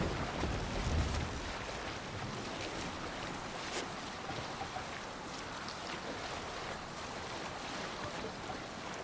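Longship under sail in Assassin's Creed Valhalla, a steady broadband wash of waves and wind noise around the hull, with a deeper rumble at the start and no talk.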